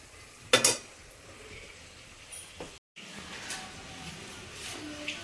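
Malai cream cooking down into ghee in a pan gives a faint, steady sizzle, with a sharp metal scrape of the spoon near the start and a few softer stirring clinks afterward.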